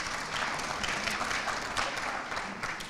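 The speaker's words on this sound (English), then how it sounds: "one more round of applause for all of our Mission Mover Awards" A crowd at an anniversary celebration applauds award recipients with steady, sustained clapping that fills the room from start to finish, dense and moderately loud, with no voices standing out.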